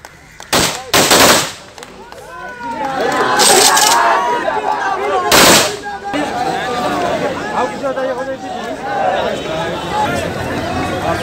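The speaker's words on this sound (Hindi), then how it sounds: "गंगा के घाट पर सेना ने फायरिंग कर उन्हें आखिरी सलामी दी" Army rifles fire a volley salute at a soldier's funeral on a Ganga ghat, several loud sharp cracks ringing out over a crowd chanting and murmuring throughout.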